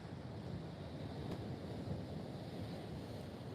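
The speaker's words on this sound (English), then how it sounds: "Now the wind's just rippling the water." Wind moving over rippling sea water along the coast, a steady, faint broadband rush of wind noise and gentle water with no talk.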